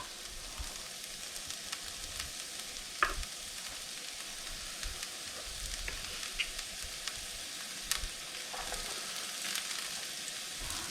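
Garlic and carrots stir-fry in a hot pan for quick fried rice, producing a constant faint crackling sizzle with scattered pops and light stirring knocks throughout.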